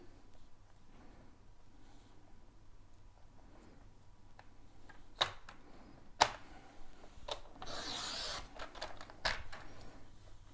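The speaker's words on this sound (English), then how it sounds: "So I'm going to trim again." A paper trimmer slices through cardstock for card making, giving a few sharp close clicks and one longer swishing cut amid quiet room tone, with no talking.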